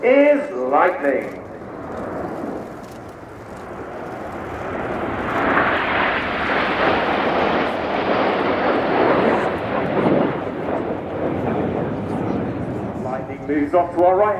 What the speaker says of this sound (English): Ladies and gentlemen, this is Lightning.